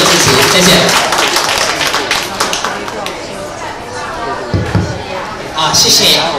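Applause breaks out at a farm-industry carnival results event to invite the county magistrate on stage: a burst of close clapping mixed with crowd chatter and a voice talking.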